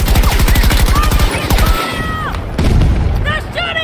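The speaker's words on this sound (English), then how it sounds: "They're shooting on me." Rapid bursts of automatic gunfire and explosive booms in Battlefield 2042 multiplayer combat, loud and continuous, with a short pause midway before a heavy blast, mixed with in-game radio voices.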